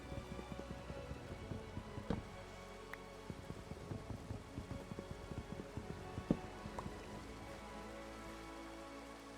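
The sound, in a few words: rain in Minecraft Skyblock video game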